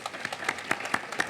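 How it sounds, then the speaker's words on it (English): Brief, sparse applause from a small outdoor audience at a prison memorial dedication, a handful of distinct claps in a short, thin burst at moderate distance. "Let's give him a round of applause, please."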